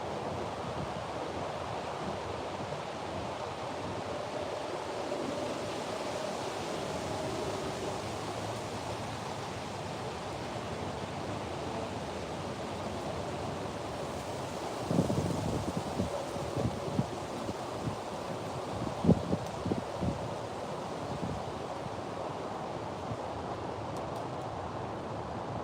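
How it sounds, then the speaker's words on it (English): Steady wind roars and buffets outdoors while catfishing, with gusts thumping against the microphone partway through; no voices. "it's windy out here"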